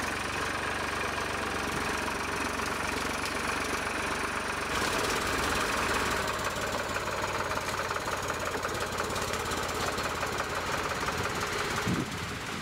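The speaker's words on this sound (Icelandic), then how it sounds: "Stundum viðurinn líka dreginn út úr skóginum með spili eins og aftan á þessari dráttarvél." A tractor engine runs steadily in a forest during timber thinning in Skorradalur, with a winch mounted on the back; a continuous, loud, rough mechanical drone with knocking undertones fills the whole stretch, with no talk.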